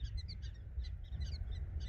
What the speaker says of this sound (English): It's prairie dogs. I can hear them chirping from like all the way up here on the side of the road.